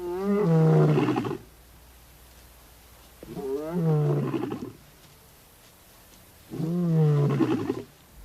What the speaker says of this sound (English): he realizes that the roars are coming from the vehicle